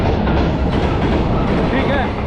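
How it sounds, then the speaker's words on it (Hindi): A train pulling into Varkala railway station in Kerala, a loud, steady rumble of wheels and carriages close by, with faint voices in the background. "ट्रेन आ गई भाई, ट्रेन आ गई।"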